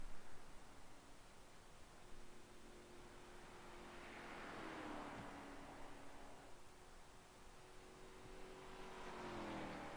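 A race car leaves the pits onto the Watkins Glen circuit in a sim-racing game, its engine a faint, steady drone that rises and falls gently under a hiss of background noise, with no voices.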